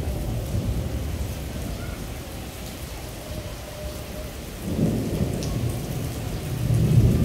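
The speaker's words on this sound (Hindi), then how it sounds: "बादल बहुत तेज गरज रहे हैं सर।" Low thunder rumbles steadily through a rainstorm, swelling louder toward the end, with rain hissing throughout.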